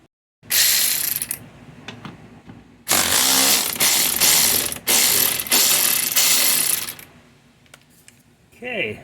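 A ratchet wrench clicks rapidly while loosening a 13 mm nut on the rear double-cardan drive shaft of a Jeep Cherokee XJ, heard close and loud in several long bursts separated by brief pauses.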